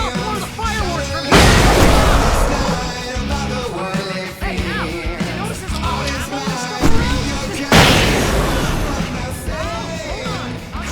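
Fireworks bursting in the video game Alan Wake, loud booms and crackling pops in repeated heavy bursts amid dense game music and effects, with someone talking over them.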